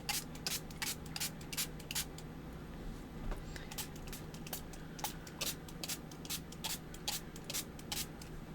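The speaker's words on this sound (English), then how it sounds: "We're just going to keep spraying until I'm happy." Cosmic Shimmer spray is misted onto a Fourth of July craft project. Quiet, close, short hissing spritzes repeat in a fairly regular rhythm, with no talking.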